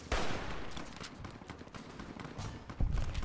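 An AK rifle chambered in 5.56 fires in sustained bursts in Fallout: New Vegas, a dense, loud rattle of gunfire that swells again toward the end, with no talk.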